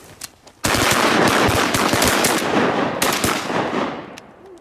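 Shotgun blasts during a Minnesota duck hunt over decoys ring out in a dense burst of overlapping, loud shots, with a brief quieter lead-in before the volley starts.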